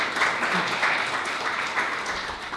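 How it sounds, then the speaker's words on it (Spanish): Brief applause from an audience at a poetry reading, a few seconds of moderate, even clapping with no one speaking. "Un aplauso para Lucía"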